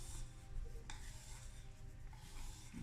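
A tool scrapes part A epoxy resin out of a cup, a faint, steady rubbing rasp close by with a few small knocks.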